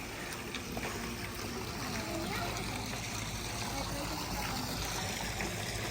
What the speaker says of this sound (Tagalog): May pambata dyan. Maganda, may falls.